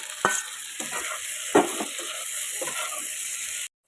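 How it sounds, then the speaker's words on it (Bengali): Fried eggplant being stirred into an egg and spice mixture in a pan, heard as a few scraping stirs over a low sizzle before the sound cuts off abruptly. "এবার যে বেগুনটা আমরা ভেজে রেখেছিলাম এর মধ্যে দিয়ে দেব।"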